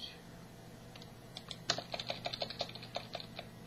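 Typing on a computer keyboard: a run of quick, uneven key clicks close by, starting sparse and growing into a steady patter, with no talking.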